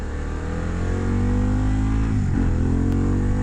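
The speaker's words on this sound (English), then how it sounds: "let's turn this exhaust back on" A motorcycle with a loud aftermarket exhaust revs hard and steadily up close, its deep throaty roar holding strong throughout, with a brief dip and surge in pitch partway through.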